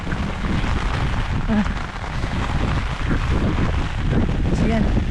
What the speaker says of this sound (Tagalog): malakas din kasi yung hangin